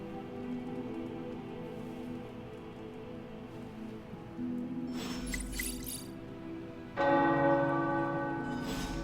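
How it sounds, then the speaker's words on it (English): Tower bells ring out in the video game Marvel's Midnight Suns, two loud clanging strikes whose tones ring on and overlap, sounding over a steady rain-like ambience with no speech. "the tower bells are ringing"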